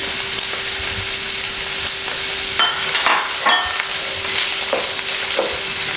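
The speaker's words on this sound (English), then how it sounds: "After adding the garlic and ginger paste, I'm now gonna add the peas." Frozen peas sizzle in a pan with garlic and ginger paste while making vegetable samosas, a steady close frying hiss broken by a few scraping stirs near the middle.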